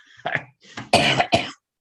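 A person coughs several times in quick succession, close and fairly loud, with short pauses between coughs.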